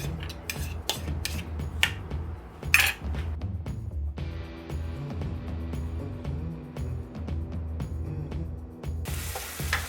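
Eggs scrambled in olive oil in a pan, a soft sizzle under repeated clinks and scrapes of a utensil against the pan, with a brief louder rush of sizzling near the end.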